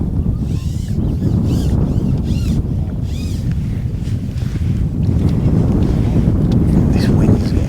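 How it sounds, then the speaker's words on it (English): Strong wind gusting across an open fishing lake during a match at Woodhouse Grange, a loud, steady roar of wind buffeting the microphone with faint water lapping beneath, no talk. "This wind's getting up a little bit now"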